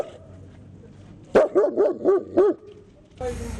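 Dogs bark in a quick run of five sharp barks over low background murmur, then a burst of noise cuts in.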